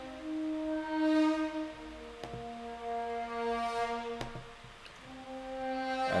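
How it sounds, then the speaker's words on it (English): Sustained horn crescendos swell upward in volume in a grime beat, layered in a full orchestral texture, with a couple of sharp percussive hits cutting through. "We've got these horn crescendos."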